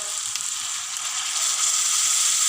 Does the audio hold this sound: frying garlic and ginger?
yes